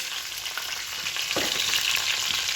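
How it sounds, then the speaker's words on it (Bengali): Pieces of fish fry in oil in a kadai pan, a steady close sizzle with occasional stirring scrapes and no voices. "আর এখানে চলছে মাছ ভাজা হয়েছে, চারটি এখানে ভাজা হয়েছে।"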